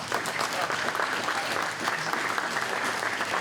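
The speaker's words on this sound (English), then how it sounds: "Let's get some claps for them." Dense, continuous applause fills a hall at a baseball hall of fame induction ceremony for a 1994 Saskatchewan team, steady and moderately loud throughout with no gaps.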